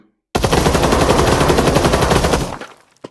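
Rapid, continuous machine-gun fire from a VR zombie shooting game on Oculus Quest 2, a loud unbroken burst of about two seconds that cuts off abruptly, followed by a brief click.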